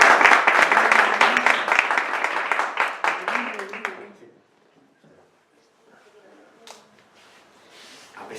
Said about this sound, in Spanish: Un aplauso que lo vamos a hacer.